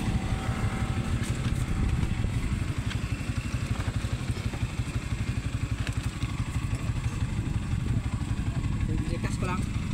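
A motorcycle engine runs steadily close by at a fast, even idle rhythm throughout, with people talking over it at a Fort Magsaysay, Nueva Ecija meetup.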